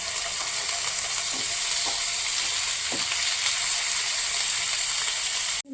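Chopped onions and tomatoes fry loudly in a pan, a steady bright sizzle with a few soft scrapes of stirring, before the sound cuts off abruptly near the end; no one speaks.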